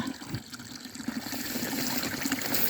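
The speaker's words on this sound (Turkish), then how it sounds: "E bu su burada" Spring water flowing from an old Ottoman-era fountain, a close, steady trickling and splashing stream with bubbly dribbles, heard alone.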